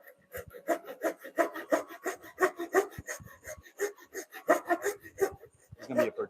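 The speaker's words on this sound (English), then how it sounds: "It's going to be a particularly difficult mortise to cut because of this knot." Hand tool cutting a mortise through a large knot in wood during a bunk bed build in a garage workshop, a steady run of rasping, rubbing strokes in quick rhythm, close and moderately loud.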